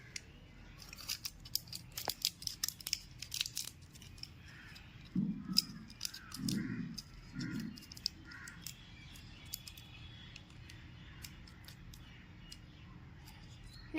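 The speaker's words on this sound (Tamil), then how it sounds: "நம்ம அலுமினியம் ஃபாயிலை நம்ம இந்த சைஸ்க்கு கட் பண்ணிட்டு" Scissors snipping aluminium foil to size for a craft stylus, a quick run of sharp crisp cuts and crinkles near and fairly quiet, with a few duller rustling handling sounds in the middle.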